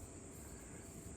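A steady, distant airplane drone rumbles on a quiet Sunday outdoors, with crickets chirping continuously in the background and no voices.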